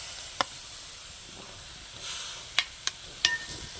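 Tomato dropped into sizzling, home-ground masala frying for chicken curry, giving a faint, steady hiss with a few sharp clicks and spoon scrapes scattered through it.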